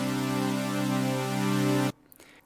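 A Harmor synth on its initialized preset with unison raised to nine voices holds one loud, sustained buzzy chord for nearly two seconds, then cuts off abruptly into near silence.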